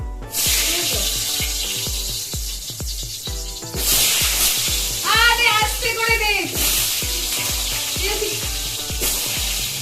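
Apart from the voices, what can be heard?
small potatoes with salt and turmeric frying in oil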